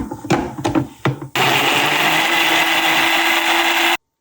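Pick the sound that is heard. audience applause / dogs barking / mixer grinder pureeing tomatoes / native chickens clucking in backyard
mixer grinder pureeing tomatoes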